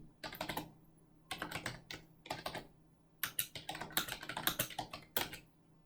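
Fingers type on a computer keyboard in quick clattering bursts separated by short pauses, close and fairly quiet, with no voices.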